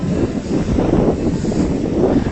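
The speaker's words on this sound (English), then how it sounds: "you'll notice a little bit more wind as you get closer to the water here" Wind gusts buffet a microphone near bay and ocean water along US Route 1 in sunny Miami, Florida, producing a loud, continuous low rumble with no voices.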